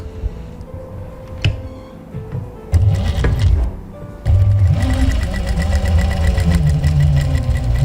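A sewing machine stitching along the edge of patchwork fabric, its steady mechanical whir starting and stopping in short runs and then running continuously, close and fairly loud with no talk over it.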